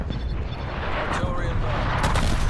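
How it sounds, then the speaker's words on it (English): Distant artillery fire in Call of Duty Black Ops Cold War: a steady low rumble of incoming strikes with a couple of sharper bursts, loud and continuous across the moment. "Hostile artillery targeting active."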